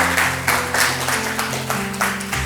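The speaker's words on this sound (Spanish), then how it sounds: "Dásele ese fuerte aplauso al Señor." A church congregation applauds during a Spanish-language sermon, with rhythmic bursts of clapping in a steady beat over a sustained organ or keyboard chord.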